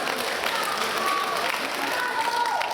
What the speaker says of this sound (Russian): Аплодисменты, дорогие друзья.